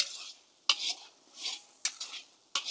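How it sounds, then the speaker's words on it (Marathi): Lavangi green chillies being sautéed in a pan for Maharashtrian thecha egg bhurji: a spatula scrapes and clatters against the pan in four sharp strokes, with a soft hiss filling the gaps between them. "मिरची पण व्यवस्थित परतून घेऊ आपण 1 ते 2 मिनिटं"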